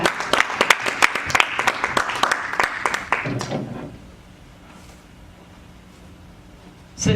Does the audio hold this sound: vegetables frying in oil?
no